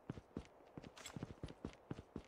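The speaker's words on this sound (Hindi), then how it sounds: "किसी के चलने की पैरों की आवाज़ आ रही है।" Footsteps of a character in Call of Duty gameplay, a series of sharp, irregular thuds close by, a few quick steps at a time with no voices over them.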